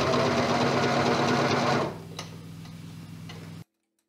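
A sewing machine stitches elastic onto a swimsuit leg seam, a fast steady whirring rhythm for about two seconds, then slower quieter ticking before stopping abruptly.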